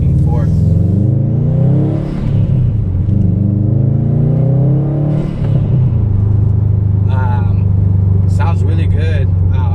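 Turbocharged 2018 Subaru WRX STi with a Cobb intake, Cobb Accessport tune and Tomei catback exhaust, a deep loud rumble rising and falling through revs, steady and close throughout.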